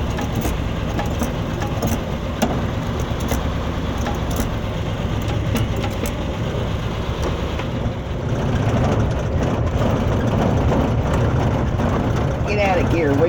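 An old Ford truck in very bad shape idles with a rough, steady engine rumble, its sound shifting slightly partway through as it is put into gear, with people talking nearby.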